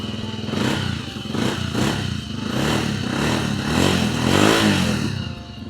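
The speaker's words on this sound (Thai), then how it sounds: "มาฟังเสียงท่อกันเลยดีกว่า คันนี้ท่อเดิมนะฮะ อ่าสตาร์ทติดทีเดียวรู้เรื่องเลยนะครับ" A 2016/17 Stallion CT400 classic-style motorcycle idling on its stock exhaust, a steady close-up throbbing engine note with a loping, slightly uneven pulse, heard alone without talk.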